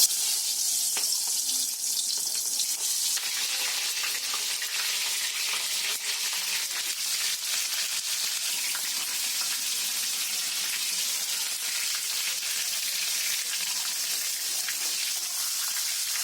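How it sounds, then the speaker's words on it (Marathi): Stuffed capsicums sizzle loudly in hot oil, a steady dense frying hiss that holds throughout with no voices over it. "तेल कडलेले आहे. आता त्याच्यामध्ये शिमला मिरची टाकते."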